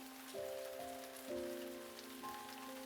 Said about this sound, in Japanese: この雨だからね。